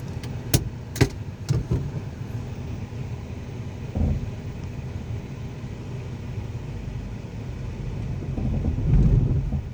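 A Toyota Avanza engine rumbles steadily through an uphill start, with a few sharp clicks near the beginning and a brief bump midway, then swells louder toward the end before cutting out.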